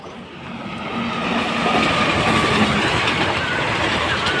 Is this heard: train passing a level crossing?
yes